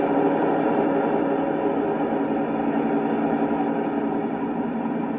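Altered engine sound from an LGB 2095 model locomotive with a Zimo sound decoder, a loud, steady droning rumble that holds evenly throughout with no talking.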